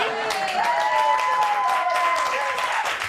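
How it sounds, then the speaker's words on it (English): A studio audience on a live TV chat show breaks into cheering and clapping, a short, loud burst with a presenter's voice heard over it. "a cheer would be lovely"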